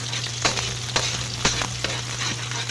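Fried rice is stirred in a frying pan over a steady sizzle, with a spatula scraping the pan in regular strokes about every half second, close and moderately loud.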